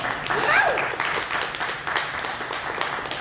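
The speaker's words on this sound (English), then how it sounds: "Big round of applause for Evan Cook." An open mic comedy audience at Camp Bar claps for a comedian, a moderate burst of applause that tapers slightly, with a speaking voice over it near the start.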